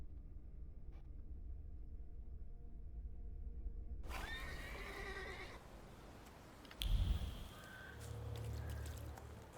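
A horse whinnies in the video game The Thaumaturge, a stylized, game-like setting, followed by a brief thud and a soft low rumble.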